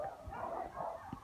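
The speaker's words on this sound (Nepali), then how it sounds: "कुकुर भुक्या नि सुनिरहनु भयो होला पछाडि" A dog barks and yips a few times at a distance, soft and somewhat muffled, over a steady low background hum.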